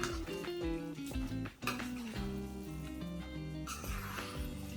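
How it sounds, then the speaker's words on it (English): Pongal, a rice dish finished with ghee, is stirred in a pot, giving close, irregular clinks and scrapes of a utensil against metal with short pauses in between. "I'm going to give it a stir again because we have added ghee towards the end."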